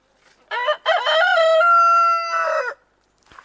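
A rooster crows loudly and close by, one long drawn-out cock-a-doodle-doo after a short opening call, with faint fowl sounds trailing off afterward and no talk.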